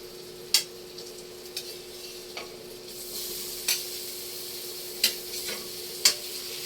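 Tomatoes and onion sauté in a pan with a steady soft sizzle, broken by several sharp clicks and scrapes of a utensil stirring against the pan.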